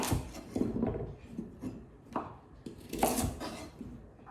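A knife chops carrots on a cutting board in a home kitchen, with a series of soft, irregular taps and scrapes that are fairly quiet and close.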